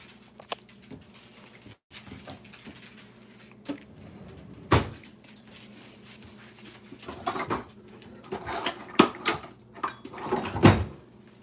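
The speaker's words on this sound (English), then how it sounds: "I had to close those drawers." Drawers are pushed shut with several scattered knocks and thuds, some carrying a light rattle of cutlery inside, at close range over a quiet room with no talking.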